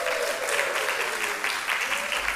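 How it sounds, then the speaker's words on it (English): A church congregation at a Halloween Sunday service claps steadily, a dense wash of applause throughout, with a voice talking faintly underneath. "Give yourselves a round of applause."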